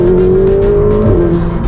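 A McLaren fitted with a Brook Race exhaust accelerates hard, a loud close engine note with a steady tone rising slightly, then a brief shift in pitch.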